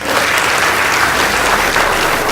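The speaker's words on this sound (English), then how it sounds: "Please give them a round of applause." An audience at a school debate competition claps in a dense, even burst of applause, loud and sustained with no break, and a few voices faintly under it.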